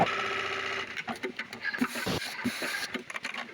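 Juki MEB-3200C eyelet buttonhole sewing machine running, a close mechanical whir that breaks into rapid uneven clacks and thumps as the cycle stitches, fairly loud with no talking.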